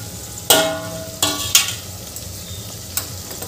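Vegetables stirred in a pan while cooking for masale bhat, with a few sharp scraping clatters of the spoon against the pan over a low, steady sizzle, close by and with no talk.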